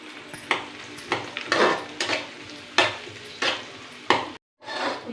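Onions fry with scrambled egg in a pan for street-style egg fried rice. A spatula scrapes and stirs in regular strokes over a steady sizzle, and the sound cuts out briefly near the end.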